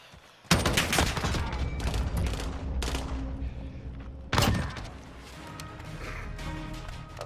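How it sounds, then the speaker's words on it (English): Shotgun loaded with slug rounds blasting in a competitive video game match, two heavy booming shots a few seconds apart with a dense clatter of gunfire and crashing debris filling the gaps. "that's what happens when you put slug rounds on a goddamn shotgun"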